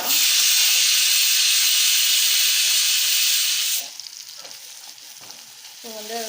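Mango pieces sauté in a hot pan with a loud, steady frying hiss that cuts off abruptly partway through, leaving faint stirring clatter and quiet, low sizzling, with a brief voice near the end.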